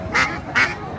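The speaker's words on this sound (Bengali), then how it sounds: "এটা বেজিং হাঁস" A Peking duck at a village market gives three harsh, evenly spaced quacks, close and loud over a low background murmur.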